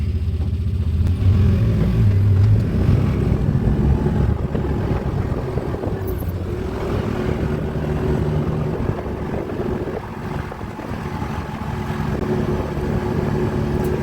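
A Can-Am Defender HD9 UTV in low gear and work mode, towing a load on a ride, gives a steady, loud engine rumble with drivetrain drone that stays near and continuous throughout, with no talk.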